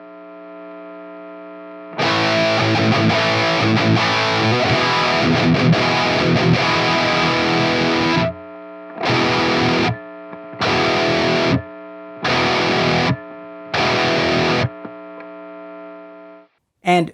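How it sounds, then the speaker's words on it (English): An electric guitar fitted with a Gibson H90 pickup, played through distortion: a long sustained chord, then four short separate bursts, loud and alone, with a faint hum in the gaps. "when I plug the thing in, it sounds like this"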